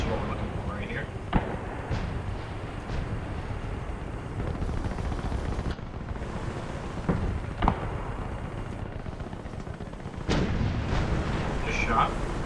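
Tank cannon fire in the video game War Thunder, from an Aubl/74 armoured car battle, with a few sharp blasts rising over continuous engine rumble and battle noise.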